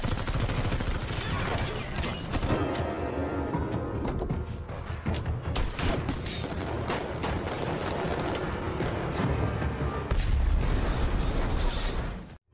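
A gunfight erupts after police stop a vehicle in an action film, dense overlapping bursts of gunfire and explosive pops that pound loudly and continuously throughout.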